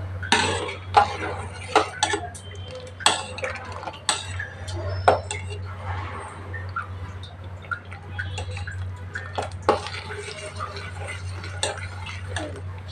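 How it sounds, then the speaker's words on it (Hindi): Rice being stirred into milk for kheer in a pot, with a spoon knocking and scraping against the metal in a loose, irregular rhythm of close clinks over a steady low hum. "चावल को दूध में डाल दीजिए अच्छी तरीके से, अच्छे से मिक्स कीजिए चावल को"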